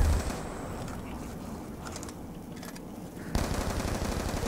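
Rapid MTAR assault-rifle bursts in Call of Duty Zombies on the Tranzit map, a dense rattling stream of shots with a brief lull before a louder resumption near the end.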